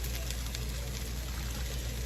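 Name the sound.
pouring Crown Royal apple whisky for a cocktail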